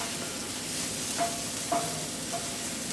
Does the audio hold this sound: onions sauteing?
yes